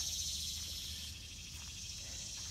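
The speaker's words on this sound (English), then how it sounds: "Some noisy old bugs." Insects chirp steadily in a summer home garden, a continuous high, shrill buzzing trill heard faintly at a distance with low background rumble.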